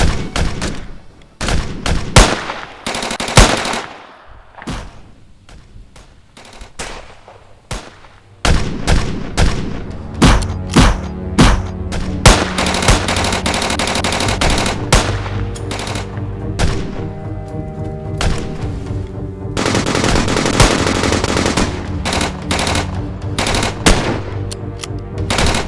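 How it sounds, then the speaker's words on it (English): Machine-gun fire rattles through a movie battle scene in long, loud bursts and single heavy shots, with brief gaps before the firing resumes densely. "Open fire!"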